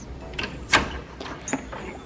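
A house front door in Hawaii base housing slides open in a short scraping glide with a couple of soft knocks, close and fairly quiet against room tone.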